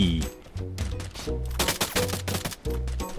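Gunfire in the battle royale game Free Fire: loud bursts of rapid shots and single cracks over a steady tonal game soundtrack, close and punchy, with short pauses between volleys.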